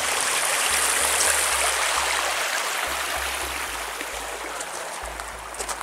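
A stream of flowing water, the Fossé de Beylon, rushes steadily and broadband close by, an unbroken wash with a low rumble running under it throughout.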